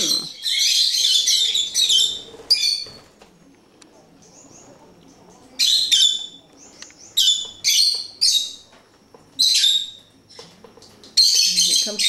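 Pet birds in a kitchen chirp and squawk in loud, close bursts, with quieter stretches of soft rustling between the calls.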